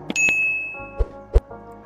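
A bright bell-icon ding sound effect rings out with a clean sustained chime, followed by a few softer metallic ding accents, crisp and close with no speech.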